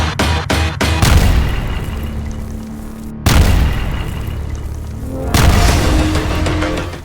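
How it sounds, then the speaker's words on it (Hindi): Several rapid sharp cracks open, then two heavy, loud booms follow a few seconds apart, each leaving a long rumbling decay. "धमाका इतना जोरदार था कि मीलों दूर तक इलाका उस धमाके से निकली आग की लपटों से रोशन हो गया।"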